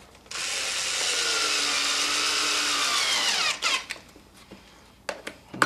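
A power drill whines steadily for about three seconds as it drives a screw into a saddle, then winds down, followed by a few clicks and knocks of handling nearby.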